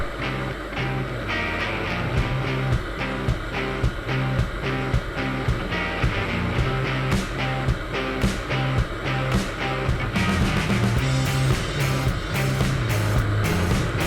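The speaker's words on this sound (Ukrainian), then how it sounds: "П'ята передача, даю газу." Viper 150 motorcycle pulling hard in fifth gear on a smooth open road, its engine a steady loud drone with rhythmic pulsing and wind noise throughout, with no talking.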